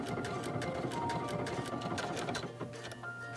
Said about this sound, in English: Stitch 97 sews my zigzag to the right.